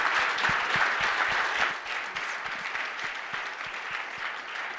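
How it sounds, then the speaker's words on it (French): An audience claps steadily as thunderous applause is called for, a dense, even wash of handclaps with occasional sharper claps standing out, moderately loud throughout. "on peut faire un tonnerre d'applaudissements pour Robin Amaché qui nous soutient depuis le début"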